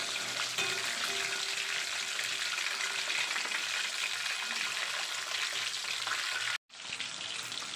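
Chicken wings for Korean spicy wings sizzle steadily through their second fry in hot cooking oil, a dense continuous crackle broken by a brief cut near the end before resuming.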